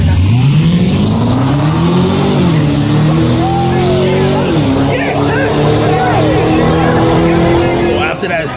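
Street racing cars in New York rev hard and loud, engine pitch climbing and dropping through gear changes, with a steady roar and a second engine whine joining partway, under background crowd noise and some voices.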